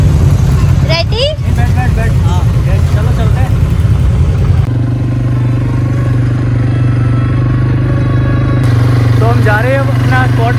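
Quad bikes running on Dubai desert sand, a steady close engine drone that shifts to a smoother, louder hum midway, with a voice talking over it at the start and end.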